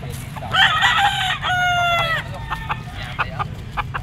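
A two-year-old Sweater breed rooster crows loudly and close by at the Pasig pet market, giving one long strained cock-a-doodle-doo followed by softer clucks over a busy background.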